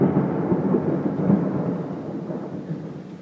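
Thunder from a lightning storm rolls in a low, continuous rumble, heard from indoors and fading gradually over a few seconds.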